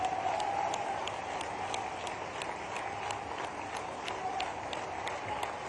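A rally crowd claps steadily at a chief minister's roadshow in Shujalpur, a dense sustained patter of many hands, fairly close.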